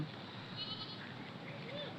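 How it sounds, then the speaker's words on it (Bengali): Goats on a goat farm in a quiet village give a faint, brief bleat in the distance, partly under a voice speaking nearby. "দেখেন কি সুন্দর ফুটফুটে ছাগল"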